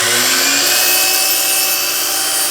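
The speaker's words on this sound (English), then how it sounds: "So we will just cut the end off of this board here." A power miter saw, set for a 22.5-degree cut, slices the end off a wooden board, producing a loud, steady high-pitched whine that holds for about two and a half seconds before cutting off abruptly.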